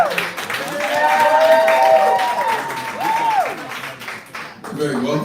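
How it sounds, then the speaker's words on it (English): An audience at a House of Blues concert applauds a female vocalist after her set, clapping spread through the room while a host talks over it and a tone sweeps briefly. "Another round of applause for Journey with the IE."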